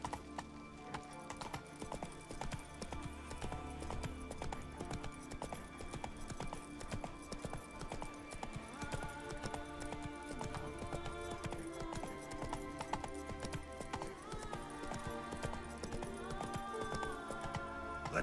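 Roach the horse's hooves clip-clop steadily in The Witcher 3, a continuous rhythmic patter of steps running under a dense, loud layer of game music and ambience.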